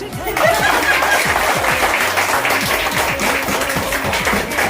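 Audience clapping at a Diwali celebration in Virar, a steady loud patter of many hands with chatter and some laughter mixed in.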